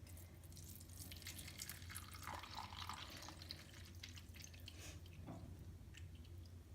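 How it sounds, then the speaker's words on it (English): Jelly trickles slowly into a hollowed watermelon, a soft continuous wet pouring with small drips and gurgles, close and fairly quiet. "get the jelly, and I shall pour it in there slowly"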